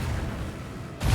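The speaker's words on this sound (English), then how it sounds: "Commence the symphony of macro cannons." Macro cannons fire aboard a starship in Warhammer 40,000: Rogue Trader, a deep rumbling boom that tails off, then a fresh loud blast cuts in at the very end.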